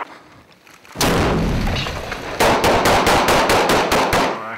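A grenade goes off during military training among dwellings, a loud blast followed by a rapid burst of heavy gunfire in quick repeated cracks.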